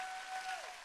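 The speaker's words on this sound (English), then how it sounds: "Can we give System a round of applause?" Audience applause fills a brief moment at a business opportunity sharing event, a dense and steady wash of many hands clapping without voices.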